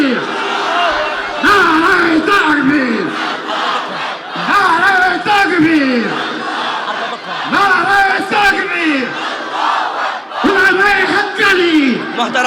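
Crowd at a Bangladeshi religious gathering roars Allahu Akbar in unison, answering a preacher's takbir call; loud, close mass chanting in repeated surging bursts, with the leader's voice over it.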